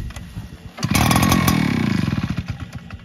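A powerful gas leaf blower engine starting after a pull on the cord: a few sputters, then a loud two-stroke buzz catching and revving unevenly, close by with no talk.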